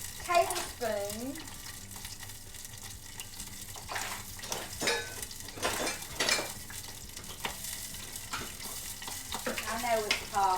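Melted butter pops and spits in a hot pan for chicken and dumplings, with scattered crackling bursts and occasional utensil clinks while a person talks over the frying.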